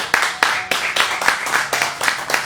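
A church congregation claps in unison, a slow steady rhythm of sharp hand claps about three per second, loud and close in a reverberant room, with a low sustained tone and faint voices underneath.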